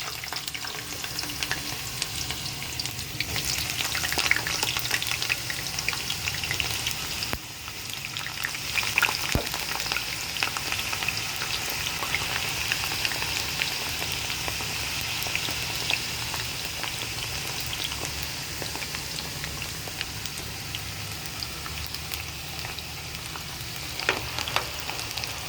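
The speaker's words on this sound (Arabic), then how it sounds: "هحمر فيها البطاطس كده." Potatoes deep-frying in fresh hot oil, a steady dense crackle and bubbling that runs on without a break, close and fairly loud, with occasional sharper pops.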